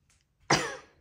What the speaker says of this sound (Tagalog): iinom ng gamot, inuubo ako